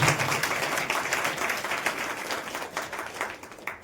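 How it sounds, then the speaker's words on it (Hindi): Congregation in a Christian church service clapping loudly, a dense sustained wash of hands that stays strong for several seconds without speech. "सभी लोग जोर से तालियां बजाएंगे।"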